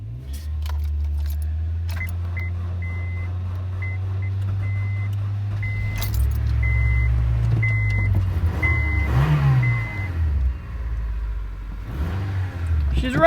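A Honda car engine starts after a jump start from a truck, a steady low idle running throughout, swelling into a brief rev near the end, with some voices and background clatter.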